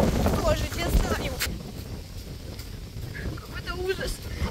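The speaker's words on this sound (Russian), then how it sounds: "И жуткий ветер." Strong wind gusts on an icy street buffet the microphone in a steady, rough roar, with faint voices in the background.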